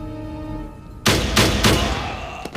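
Several loud gunshots crack in quick succession after a low background hum, each sharp burst followed by a short ringing decay, with a final faint shot near the end.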